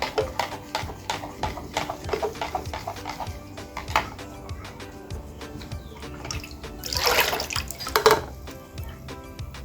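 Tap water, 500 ml of it, being stirred in a container, giving a steady run of small splashy clinks and drips, with louder sloshing swirls near the end, close and moderately quiet.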